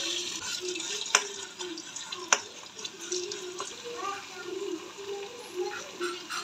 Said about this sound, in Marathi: तेल गरम झाल्यावर त्यामध्ये आलं लसूण पेस्ट टाका